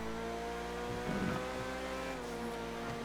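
Car tires lose traction in the GTA racing game, a brief low tire squeal rising over a steady engine drone, all at low volume with no talk.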